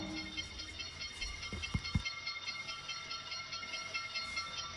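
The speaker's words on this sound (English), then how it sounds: "While the train is approaching, please remain behind the yellow line." A train approaching a station rumbles and hisses steadily with a few heavy clunks, and a bright whine lingers above the noise as it nears.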